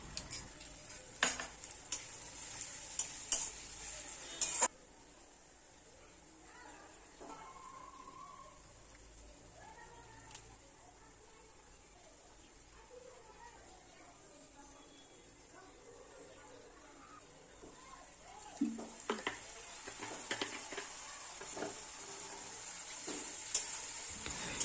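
Onion-spice paste with turmeric, chili, cumin and coriander powder is fried and stirred in a pan for chicken curry, with faint sizzling under scattered utensil scrapes and clinks, louder at the start and end.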